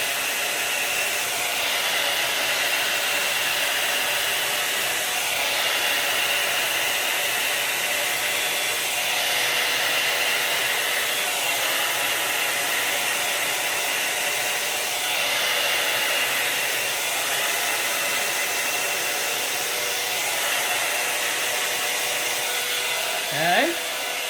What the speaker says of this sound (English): Take my little mini blower here to see if I can get a little bit more action on these blowouts.